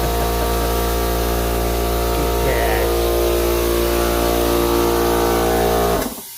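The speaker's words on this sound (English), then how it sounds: "Oh, air compressor." An air compressor running in a garage during auto paint work on a Hemi Challenger trunk, a loud, steady droning hum with a constant motor tone that cuts off abruptly near the end.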